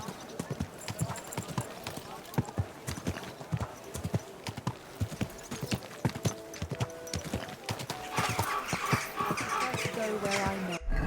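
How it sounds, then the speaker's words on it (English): Horse hooves clip-clop in a steady walking rhythm in a video game, close and distinct, while characters talk over them and ambient game sound swells near the end. "Easy. Good horse."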